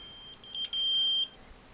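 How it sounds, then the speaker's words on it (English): A laser level receiver's high electronic beep sounds in short chirps while finding level, then holds as a steady tone for about half a second before stopping; quiet background otherwise. "Now I'll just turn the beep off so it doesn't annoy you too much."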